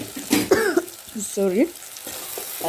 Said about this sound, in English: our spring onions are cooking very well